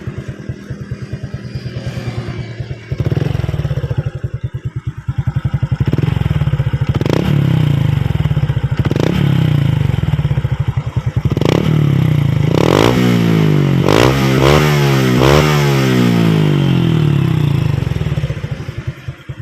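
A motorcycle engine idles with a loud, throaty exhaust, then is revved hard several times in quick bursts, each rev climbing and dropping back sharply.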